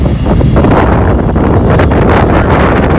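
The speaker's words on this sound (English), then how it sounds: "it's a little windy out here" Strong wind buffets the microphone outdoors at a truck dock among parked trailers, producing a loud, continuous roar with gusty swells throughout.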